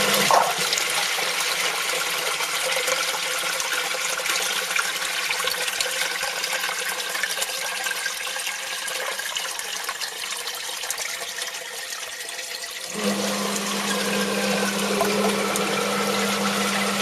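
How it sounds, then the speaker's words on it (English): A faulty sump pump running while inundated with water, a steady loud rushing and churning that abruptly shifts to a lower, humming drone partway through, with no voices. "I think we might need to get a new sump pump."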